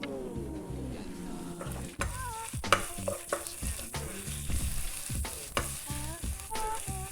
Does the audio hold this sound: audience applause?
no